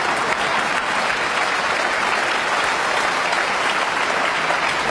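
An indoor crowd at the 2010 Wembley Masters snooker match, Selby versus Allen, claps in loud, dense, sustained applause that fills all five seconds evenly.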